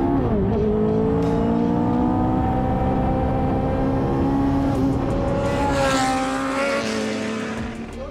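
A Lotus Evija hypercar drives at the Lotus factory, its electric drive giving a loud, continuous whine that sweeps up and down in pitch as it accelerates and eases off, with a faint tire noise near the end.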